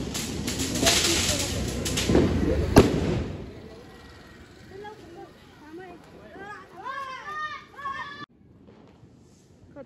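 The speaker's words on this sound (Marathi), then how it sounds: "सुतळी बॉम्ब." Sutli bomb firecrackers burst during Diwali celebrations outdoors, with several loud sharp blasts close by in the first few seconds, then fading crackle and distant pops while people talk and birds call in the background.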